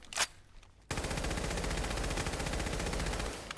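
Rapid-fire laser rifle bursts from a Fallout 4 weapon mod, a short opening shot followed after a pause by a loud, sustained stream of fast pulsing shots lasting about three seconds.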